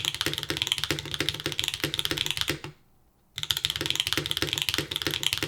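Fast, clacky Float65 mechanical keyboard typing on a bare table, close and steady, with a brief pause midway before the keystrokes resume.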